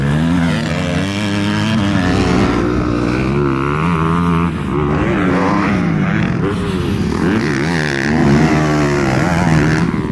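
Kawasaki KX dirt bikes, a KX450 four-stroke and a KX500 two-stroke, race around a motocross track, engine loud and close with continuous revving that rises and falls through gear changes for the full stretch, no talk.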